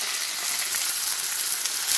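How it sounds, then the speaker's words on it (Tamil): Ginger garlic paste dropped into hot oil for a prawn thokku, giving a dense, even, close sizzle that holds steady for a couple of seconds. "இப்போ நான் எடுத்து வச்சுருக்கேன் இஞ்சி பூண்டு விழுத போடுறேன்"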